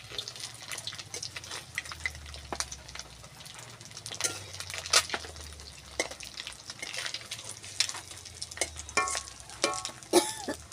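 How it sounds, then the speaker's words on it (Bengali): Food frying in hot oil on a village-style stove, crackling and popping in irregular sharp bursts over a low steady sizzle, close and moderately loud, with stirring clatter. "এই প্রচুর ফাটতিছে।"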